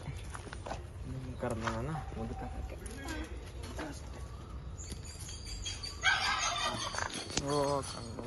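A turkey gobbles in a wet village yard, several short warbling calls in bursts rising over steady rain and background noise, with someone talking nearby.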